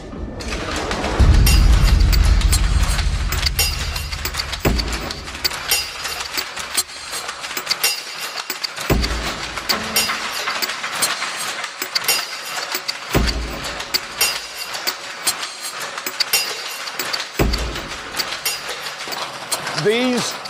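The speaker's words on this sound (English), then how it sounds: "These are mechanical power looms." Mechanical power looms weaving cloth in a mill, a dense, continuous clatter of automatic machinery with rapid repeating mechanical clicks and knocks, loud and close, starting with a heavy low rumble and carrying on steadily throughout with periodic thumps.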